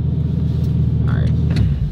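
A dream car's engine droning low and steady while driving, a close continuous rumble with a voice speaking briefly over it.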